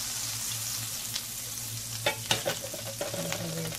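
Butter and olive oil sizzle steadily in a heated frying pan on the stove, a continuous close hiss with a few sharper crackles and pops partway through, and no voices.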